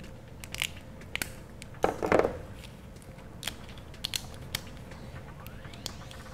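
Cutters snip through plastic wire loom on a trailer wiring harness for a 2002 Ford van: a short cluster of crunching, creaking cuts near the mic, followed by a few faint clicks over quiet room noise.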